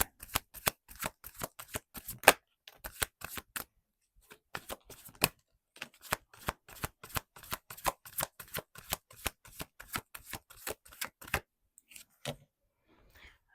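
A deck of oracle cards being shuffled close up, with repeated crisp riffling bursts in an uneven rhythm and short pauses, loud and alone with no talking.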